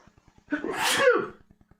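One sharp sneeze, close and sudden, breaking briefly through an otherwise quiet room with faint ticking in the background.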